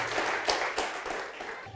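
A church congregation applauds in a steady, dense wash of clapping with a couple of sharper bursts, loud and close throughout.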